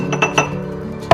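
Glass clinks on a bowl as brioche batter is mixed, a few light scraping knocks in quick succession ending with a sharper clink, close and fairly loud.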